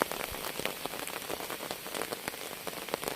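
Steady night rain falling on surfaces during a flood in southern Laos, a dense continuous patter of drops with scattered sharper individual hits, fairly close and even in level.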